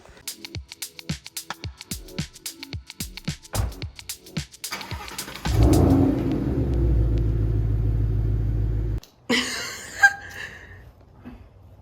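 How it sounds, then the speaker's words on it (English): A Subaru WRX STI with a stock exhaust cranks and fires after a clutch install, a steady deep idle rumble that cuts off suddenly. Before it comes a run of sharp clicks and knocks, and light laughter and chatter follow near the end. "we'll start it up for you guys"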